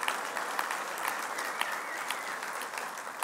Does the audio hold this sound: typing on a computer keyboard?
no